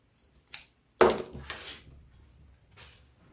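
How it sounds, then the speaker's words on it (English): Scissors snipping off a piece of flower wreath material, with two or three sharp close cuts and a brief rustle, then quiet, with no talk. "Let's cut this little piece off."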